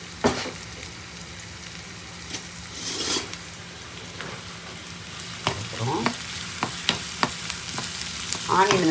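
Onions sautéed in a pan for a mixed vegetable uthappam, with steady sizzling under repeated scraping and stirring strokes, close and fairly loud.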